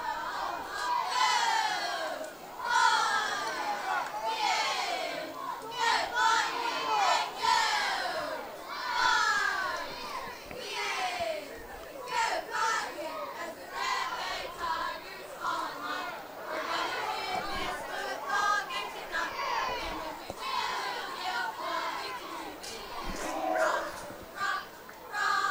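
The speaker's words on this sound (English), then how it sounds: "We'll go down and listen to the cheerleaders a little bit." Red Bay Tiger high school cheerleaders chant and shout in the rain at a football game, a steady mass of young voices with crowd chatter and yelling heard from the stands.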